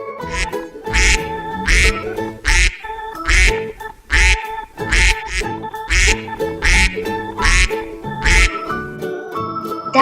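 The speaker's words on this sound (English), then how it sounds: "Duck." A duck quacks loudly and close by in a steady series of about a dozen harsh, nasal calls, evenly spaced with short pauses between them.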